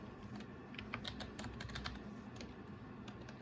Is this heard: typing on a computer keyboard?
yes